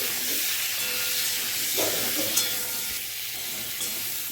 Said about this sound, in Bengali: আলুগুলো ভেজে নিচ্ছি আগে।